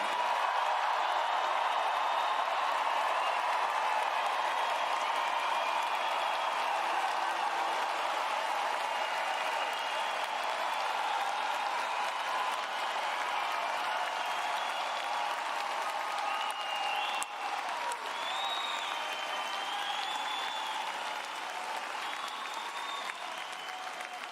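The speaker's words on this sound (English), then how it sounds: "give the loudest cheer and the biggest applause to congratulate the Emerson College class of 2025" A large crowd cheers and applauds the Emerson College class of 2025 at their commencement ceremony, a sustained roar of clapping and shouts that holds steady for over twenty seconds before easing slightly.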